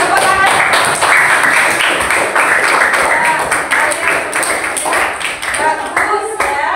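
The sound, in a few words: children clapping hands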